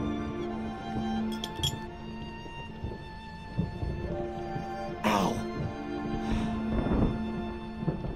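A piece of glass clinks in a dark adventure game, with a few bright, brief chinks scattered through a steady ambient drone and some low shuffling, moderately near.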